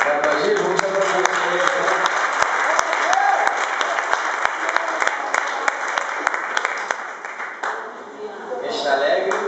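A church congregation applauds at a worship service, steady loud clapping throughout with sharp individual claps standing out and crowd voices mingled underneath.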